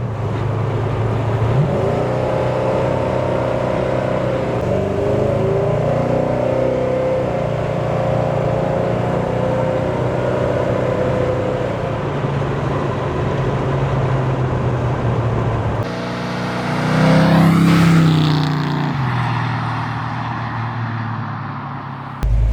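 A 1935 Ford truck hot rod drives along with a steady, loud engine drone that builds, then swells into a brief louder rev and whoosh near the end before settling back.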